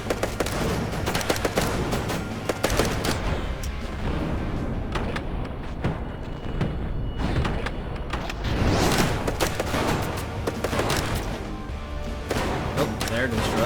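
Mounted gun firing in a crew-based outpost defense video game, with repeated bursts of rapid gunfire and heavy impacts over constant loud combat noise, the shots clustering in dense stretches throughout.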